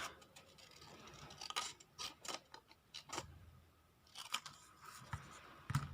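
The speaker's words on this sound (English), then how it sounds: "And then I'll eyeball the centre again and cut up through the centre." Scissors snip through cardstock with a brown core, cutting up the centre of a paper folder. The sharp, close cuts come in irregular bursts of several quick snips, and no one speaks.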